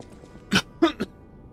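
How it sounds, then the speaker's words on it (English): A person coughs and clears their throat while playing the game Lies of P, with three short, close bursts, one rough hack followed by two quicker coughs, then quiet. "I don't know why I'm coughing."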